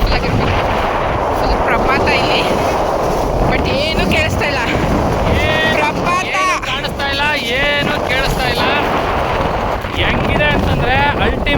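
Strong wind at a fog-covered cliffside viewpoint buffets the microphone with loud, continuous roaring gusts, and a voice speaks faintly under the blasts.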